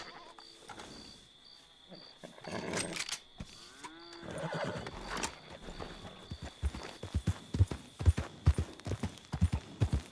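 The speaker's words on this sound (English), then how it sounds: "What is that horse doing in there?" Horse hooves clip-clop in Red Dead Online, a Western video game, with scattered hoofbeats giving way to a clear, loud, irregular clopping rhythm over faint ambient game sound and brief animal calls.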